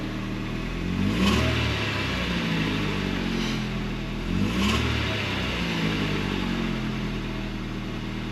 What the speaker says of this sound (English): I'm just going to give it a few revs, see what happens.